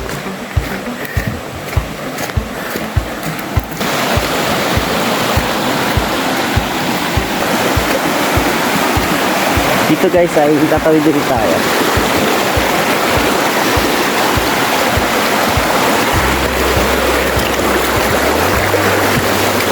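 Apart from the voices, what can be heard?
waterfall, rushing water at Karugo Falls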